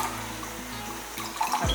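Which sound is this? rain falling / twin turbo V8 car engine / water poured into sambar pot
water poured into sambar pot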